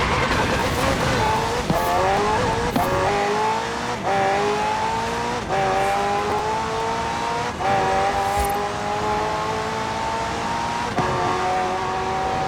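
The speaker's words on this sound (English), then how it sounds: "The car's blistering performance is delivered by a twin-turbo V8, supplemented by a McLaren ECU electric motor and instant power assist system" A McLaren twin-turbo V8 hybrid supercar in Forza Horizon 4 accelerates hard through repeated gear shifts, each rising engine whine cut by a brief shift dip, loud and close throughout.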